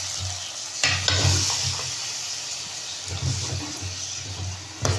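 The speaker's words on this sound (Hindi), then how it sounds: "अब हम लहसुन अदरक में चिकन को भूनेंगे।" Chicken pieces being stirred and fried in garlic and ginger in a pan, giving a steady soft sizzle with occasional scraping stirs, fairly close and moderately quiet.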